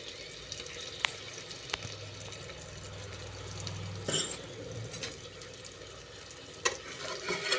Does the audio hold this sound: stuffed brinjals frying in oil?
yes